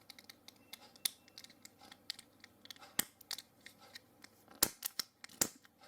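A pipe lighter is struck again and again, giving sharp, crisp clicks and scratchy snaps in an irregular rhythm, close to the microphone in a quiet room.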